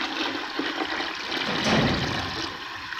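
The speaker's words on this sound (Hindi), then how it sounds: "इसमें थोड़ी सी यखनी ऐड कर लेंगे" Yakhni meat stock poured into a cooking pot, a close, continuous rushing splash of liquid that swells slightly toward the middle and carries on without talk.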